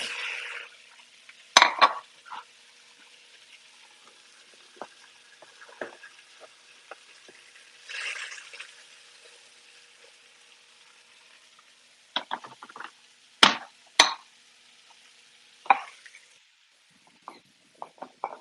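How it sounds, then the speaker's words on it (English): Cauliflower is stirred into a coconut curry in a pan at a meditation centre kitchen, with scattered scraping clinks of a utensil, soft sizzling patches and a few sharp knocks against the pan, otherwise fairly quiet. "I'm going to add the cauliflower now."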